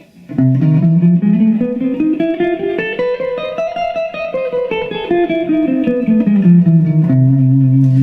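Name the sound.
guitar playing a scale mode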